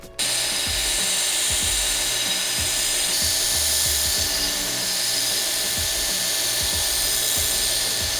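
A grinder stripping forge scale from a knife blade gives a loud, continuous high whine with a gritty rasp and small dips as the steel is pressed and moved, very close, no talk.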